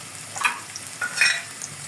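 Onion, black pepper, cardamom and cinnamon sauté in a pan, giving two short scraping stirs over a soft sizzle, close and fairly quiet, with no talk.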